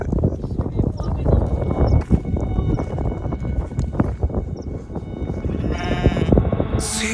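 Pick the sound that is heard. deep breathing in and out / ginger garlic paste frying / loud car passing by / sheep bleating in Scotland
sheep bleating in Scotland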